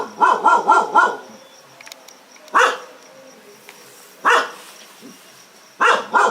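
A dog barks in bursts: a quick run of four or five barks, then single barks spaced a second or more apart, fairly close and loud.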